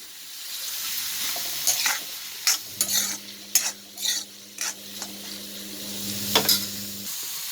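Onions sauté with salt in a pan for a Andhra-style country chicken curry, with a continuous sizzle broken by irregular scraping stirs and sharp spatula clacks, plus a low steady hum joining partway through.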